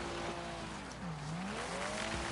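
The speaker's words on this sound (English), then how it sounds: "Drifting around this corner right here." Engine whine from a race car in the video game Wreckfest at Dirt Devil Stadium, with rising and falling pitch as it drifts around a corner, steady and continuous throughout.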